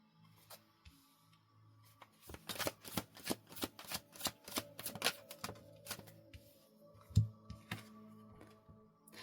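Tarot cards riffled and shuffled by hand, a quick flurry of crisp, close papery clicks that builds after a quiet start, then trails off into scattered taps, with no one speaking.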